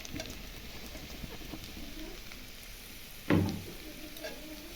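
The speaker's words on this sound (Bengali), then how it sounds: "তো এখন পনিরটাও আমি দিয়ে দিচ্ছি, ভাজা পনির।" Fried paneer dropped into a pan of potato and pointed gourd curry, giving one sudden loud sizzling splash after a steady low frying hiss, then fading back to quiet bubbling.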